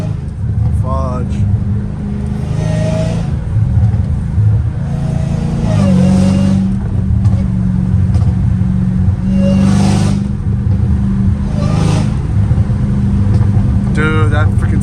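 Straight-piped Dodge Hellcat Redeye cruising at night, a loud, deep rumbling exhaust that swells with repeated revving surges throughout, with people talking over it at times.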